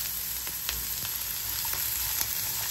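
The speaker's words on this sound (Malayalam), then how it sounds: "ഒരു പാത്രം വെച്ചു, അതിലോട്ട് ഇച്ചിരി വെളിച്ചെണ്ണ, ഓരോ ഐറ്റംസും നമുക്ക് ഒറ്റയ്ക്കൊറ്റയ്ക്ക് വഴട്ടാം" Ingredients sauté in a little coconut oil in a pan, a soft, continuous sizzle with faint scraping stirs of a silicone spoon, heard alone without talk.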